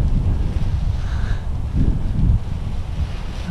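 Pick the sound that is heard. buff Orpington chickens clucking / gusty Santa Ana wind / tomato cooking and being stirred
gusty Santa Ana wind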